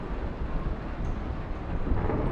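Dense rain and rumbling thunder roll through a storm in the video game Kentucky Route Zero, a loud, steady wash of noise with deep swells and no speech.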